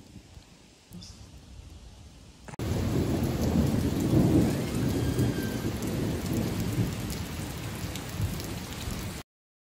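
Steady rain pours down at a campsite in Michigan's Upper Peninsula with a deep rolling rumble of thunder; it starts faint, then swells into a loud, continuous downpour that stops abruptly.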